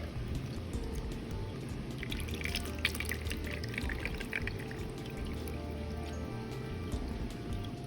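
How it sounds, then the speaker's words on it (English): Honeysuckle-infused water pours through cheesecloth set in a strainer, a steady close trickle and patter of liquid with scattered drips running throughout. "we pour this through the cheesecloth"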